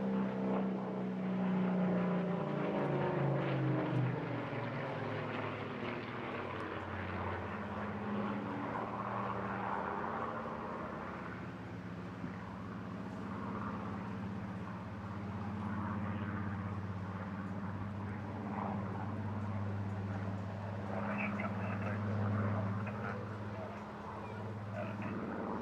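A Griffon-engined Spitfire, powered by a 2,000 horsepower Griffon 65 or 66, flies by at the Bournemouth Air Festival, its deep propeller drone rising and falling at a distance, with a faint voice under it.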